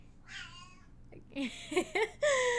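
A cat meows repeatedly for attention at home, several clear, close meows with rising and falling pitch, the first drawn out and the later ones shorter in quick succession, over a faint low hum.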